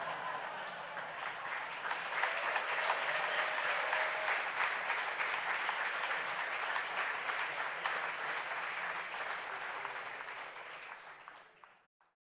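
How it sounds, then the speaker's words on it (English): Sustained applause from an audience at a sports hall of fame ceremony, many hands clapping steadily and fairly distant for about eleven seconds, then fading out to silence. "Let's give them another round of applause, please."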